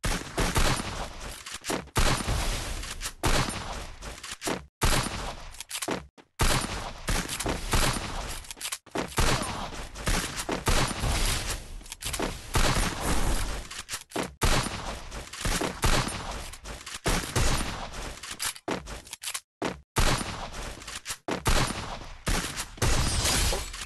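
Dense, loud gunfire from the Free Fire video game, with sustained bursts and volleys of shots filling almost the whole stretch and only a few brief gaps.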